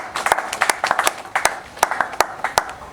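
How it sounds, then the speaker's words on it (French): A small audience at a political gathering gives a brief, uneven round of clapping, a few loud sharp claps standing out over a thinner patter, with a faint voice in the background. "Si nous pouvons applaudir pour eux"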